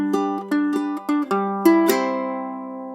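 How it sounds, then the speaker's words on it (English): A low G tuned ukulele picks out the intro riff of a song, plucked notes in quick succession before a final chord rings out and slowly decays, played alone. "So the intro riff sounds something like this."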